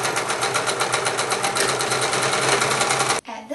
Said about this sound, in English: Go ahead and sew down the entire length of this side and this side.